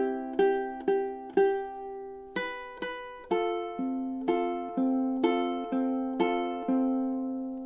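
Ukulele strumming the opening chords of a song, measures 9 and 10: bright, clear plucked chords ringing one after another at a steady, unhurried pace, played alone and close.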